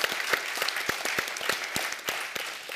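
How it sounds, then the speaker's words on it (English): An audience at a talk on corporations and civic capital gives a round of applause, a moderately distant wash of clapping with a few distinct sharper claps standing out, steady across the moment. "I think he deserves an extraordinary round of applause"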